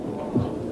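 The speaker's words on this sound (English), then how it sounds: "I can barely hear my heart beating." A single low, muffled heartbeat thump sounds once from the film The Clonus Horror, sitting within a steady low hum.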